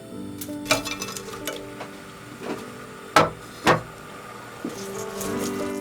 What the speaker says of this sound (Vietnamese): Sau đó thì mình cho hết chỗ cá đã chiên vào để rim.